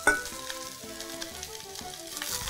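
Enoki mushrooms with chili and ginger strips stir-frying in a wok, giving a steady close sizzle with scraping stirs throughout, loud at the start as the ingredients go in, with no talking.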